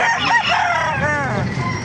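A rooster crows loudly and close by at a chicken market in Baliuag, Bulacan, one long drawn-out call filling the moment.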